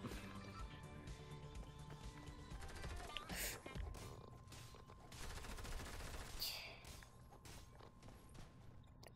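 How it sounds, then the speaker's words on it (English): Rapid bursts of gunfire from the video game Fortnite, with volleys of shots and footstep-like clatter in the game mix, fairly steady and mid-level throughout, with no talk over it. "somebody was trying to shoot me"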